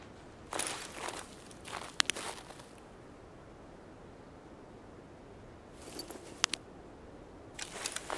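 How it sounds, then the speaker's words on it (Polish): Footsteps of someone running in the video game Escape from Tarkov, heard as a few short bursts of soft, fairly distant steps with quiet pauses between them. "Słuchajcie, ktoś tam biegnie."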